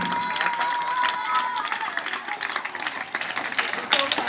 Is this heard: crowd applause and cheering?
yes